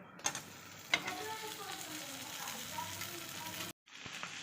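Potatoes tipped into a pan of roasted masala with turmeric for katvada: a couple of soft thumps, then a steady close sizzle with stirring scrapes, ending in a brief cut.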